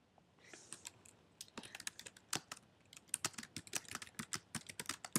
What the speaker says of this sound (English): Now I'm just typing in nonsense here